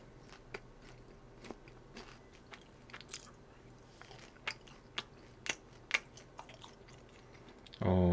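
Crisp, crunchy bites into Korean fried chicken gangjeong topped with snowflake cheese, close-up and fairly quiet, with sharp crackles spaced every second or so over soft chewing.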